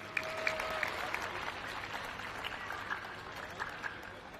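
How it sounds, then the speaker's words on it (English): Audience applause at a karting podium ceremony in Al Forsan, UAE, heard as a soft, distant patter of clapping that carries on steadily throughout. "one final round of applause for Mini"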